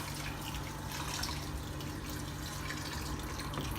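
Water pours steadily into a pot of rice mixed with ginger garlic paste, a constant soft splashing hiss at moderate level with no voices.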